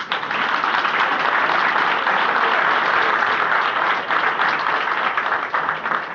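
A crowd at a housing-rights assembly in Valencia applauding, continuous dense clapping from many hands held at a loud, even level throughout.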